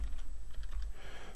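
A short, close burst of computer keyboard typing, soft clustered key clicks over a low background hum.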